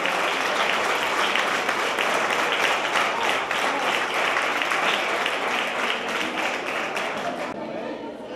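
An audience at a music school's end-of-year concert applauds students, loud sustained dense clapping throughout that tapers off near the end.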